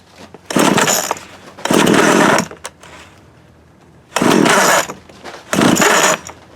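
A Montgomery Ward TMC 24052B chainsaw running close by in four loud throttle bursts separated by quieter idling gaps, with no talk over it.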